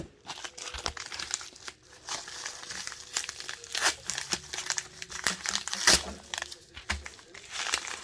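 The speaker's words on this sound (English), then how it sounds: "So here's another Amazon package with a big envelope." A big padded envelope from an Amazon package crinkles and tears as it is opened close by, with continuous rustling and crumpling broken by sharper rips.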